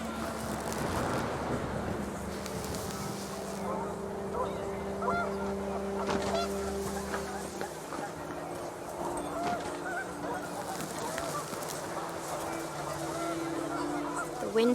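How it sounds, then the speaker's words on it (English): Panicked geese honk in the video game What Remains of Edith Finch, their calls scattered over steady wind and low ambient hum, fairly close and continuous through the scene. "panicked geese appeared and quickly went"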